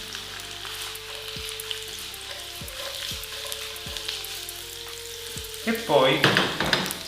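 Celery and carrot sizzling in oil as the base of an Italian soffritto, a steady close hiss with several sharp clicks of a utensil and a louder burst of stirring near the end, a few words spoken briefly.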